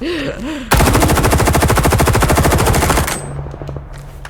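Rapid automatic gunfire from a weapon in the shooter game S.T.A.L.K.E.R. 2, a loud sustained burst of evenly spaced shots lasting a couple of seconds, then a ringing echo and softer clicks as it stops.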